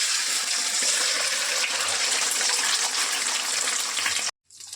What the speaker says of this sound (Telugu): ఈ 4 గుడ్లను ఆయిల్లో వేస్తున్నా.